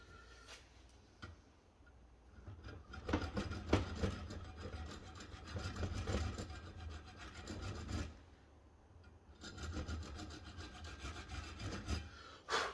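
A hacksaw cuts to repair damaged bolt threads, rasping back-and-forth strokes arriving in two rhythmic bursts, fairly quiet and close with no voices.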